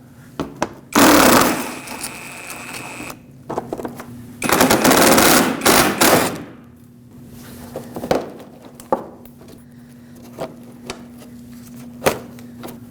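Rapid rattling bursts from a power tool backing out 10mm screws from the front bumper cover shield of a 2006-2015 Lexus IS250, two long loud bursts followed by shorter taps and clicks, close with no talking.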